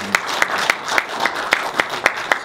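An audience at a business presentation applauding, a sparse, rhythmic round of clapping with a sharp synchronized beat about four times a second, fairly close and steady.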